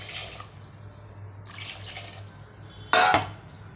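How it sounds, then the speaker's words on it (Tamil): Water splashes into a pot of whole washed tomatoes being cooked for tomato kuzhambu, in short soft pours with a sharper, louder splash near the end over a faint background hum. "பாருங்கள், தேவையான தண்ணி ஊற்றியாச்சு."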